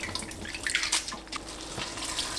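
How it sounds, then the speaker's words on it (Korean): Blanched pepper leaves rinsed by hand in cold water, with soft splashing, sloshing and trickling drips close by, irregular and fairly quiet. "손으로 살살 흔들어가면서 씻으면 이물질이 씻겨나가요."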